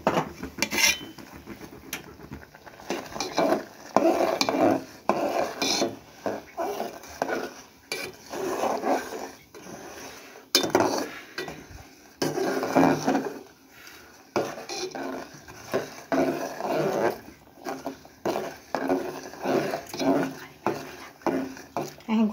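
Jaggery and roti being stirred frequently in a pot, with repeated scraping and rubbing strokes of a spoon against the pot in an irregular, continuous rhythm, close up and moderately loud.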